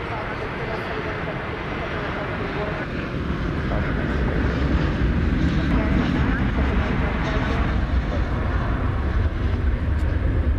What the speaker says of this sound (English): The flight from San Francisco.